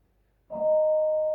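A single deep metallic gamelan gong stroke sounds with a sharp onset, then a steady, ringing hum that sustains without fading.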